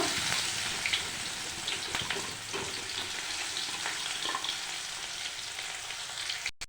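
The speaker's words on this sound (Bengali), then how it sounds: "দিয়ে দিচ্ছি পেঁয়াজ কুচি। পেঁয়াজটাকে একটু বাদামি করে ভেজে নেব।" Chopped onion sizzles in hot oil seasoned with black cumin (kalonji) seeds while being browned for a bhola fish curry, a dense, steady frying hiss with occasional stirring scrapes and no talk.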